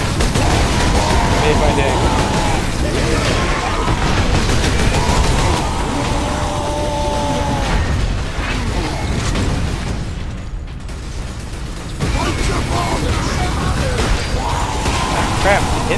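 Triple laser rifle fire and battle noise from Space Marine, with rapid bursts, mechanical clatter and pops that dip briefly before resuming, mixed under a speaking voice.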